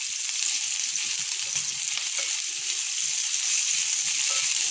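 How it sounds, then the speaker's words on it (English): Chopped onion frying in a pan with garlic in a tiny home kitchen, giving a steady, even sizzle throughout with faint light pops and no talking. "And I'll add the onion. Let that fry up a little bit."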